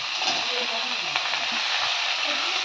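Eggplant pieces frying in a pan give a dense, steady hissing sizzle throughout, fairly loud and close, with faint clinks and stirring beneath.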